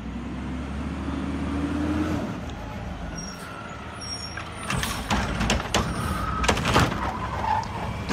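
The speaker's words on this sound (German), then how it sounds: "Die Müllabfuhr, Mülltrennung." A garbage truck collecting rubbish on a street, with a low engine rumble, a hydraulic whine, then sharp clanks, bangs and hissing air brakes in the latter half, fairly close.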